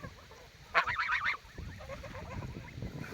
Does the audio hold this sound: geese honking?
yes